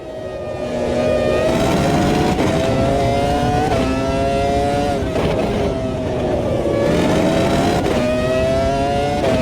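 A race car engine in the racing sim Automobilista 2 revs hard and steadily, its loud, buzzing tone climbing and dropping through several quick gear changes with no voices over it.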